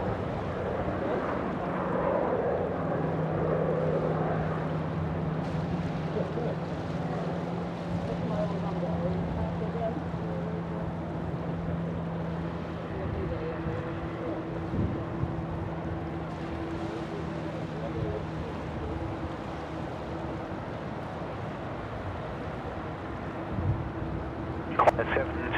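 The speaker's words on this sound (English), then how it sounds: "We have a QJet here actually coming out from runway 34 right." A QantasLink QJet airliner takes off from runway 34 right at Sydney Airport, bound for Hobart. A steady, distant engine roar with a low droning hum runs throughout, while a person talks over it.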